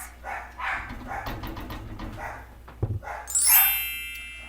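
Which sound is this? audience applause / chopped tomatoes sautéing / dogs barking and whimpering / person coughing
dogs barking and whimpering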